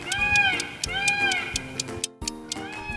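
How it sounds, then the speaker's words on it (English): A peacock gives a series of loud, nasal, meow-like wailing calls, three or four rising-and-falling cries in quick succession, close and alone. "It's a peacock."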